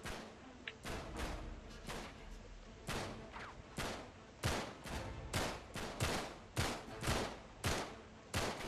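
Rapid gunfire in Uncharted 3: Drake's Deception, a dense run of loud sharp shots firing in quick irregular bursts across the whole stretch, with heavier booming reports now and then.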